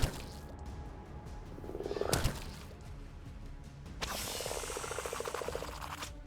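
Frogs croak in the Colony Ship video game, a quiet rasping chorus that rises around the two-second mark and swells again into a steady throaty croaking over the final seconds.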